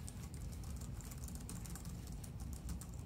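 Typing on a premium Logitech aluminum keyboard, the Craft model, gives a quick, continuous patter of soft key presses at close range, fairly quiet and even, with no talking.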